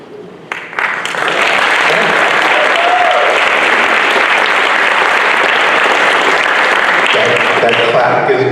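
Loud, dense applause from an audience at the 22nd Annual Hurston/Wright Legacy Awards Ceremony in 2023, swelling within the first second and holding steady and close for the rest of the stretch.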